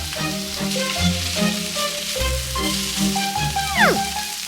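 Vegetables stir-fried in a pan with paprika, garlic powder and Cajun seasoning, a steady sizzle running throughout beneath soft background music, with no talking.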